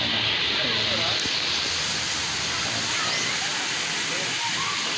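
Water showers spray steadily at a wide resort splash park, a continuous rushing hiss like a small waterfall close by, with faint voices and playground bustle in the background.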